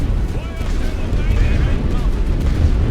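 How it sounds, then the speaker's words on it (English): Heavy artillery fire in The Great War: Western Front, a loud, continuous rumbling barrage of booms and crackles that fills the battlefield without pause. "Heavy artillery coming down."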